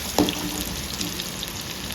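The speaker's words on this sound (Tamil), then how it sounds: "வெங்காயத்தை சேர்த்து நல்லா 2 திருப்பி நல்லா திருப்பி கொடுக்கலாங்க. வெங்காயம் நல்லா வதங்கட்டும்." Onions with mustard seeds frying in a pan give a soft, steady sizzle, with a brief louder crackle near the start and no talking.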